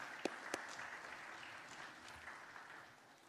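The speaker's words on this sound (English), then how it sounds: "let's give him a round of applause as well." Audience applause at a regional conference on private sector engagement, faint and distant clapping from the hall, with a couple of sharper claps near the start before it thins out.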